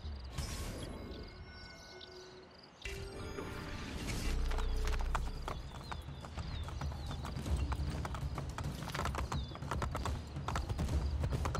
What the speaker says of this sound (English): Ride across the bridge.